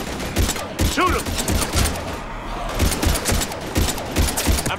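Rapid gunfire from a Mass Effect 3 firefight, dense bursts of shots continuing throughout, with a brief lull in the middle and muffled shouted voices mixed in.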